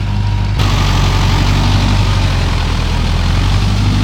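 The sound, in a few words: Mahindra 585 tractor engine running at 800 rpm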